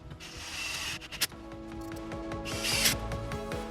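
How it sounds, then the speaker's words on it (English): Two screws being driven to secure a BimmerTech NBT Evo ID5/ID6 head unit in a BMW F30 dashboard, heard as close, quiet ratcheting and rubbing of a tool with a couple of sharp clicks. "we'll grab the 2 screws and secure it properly"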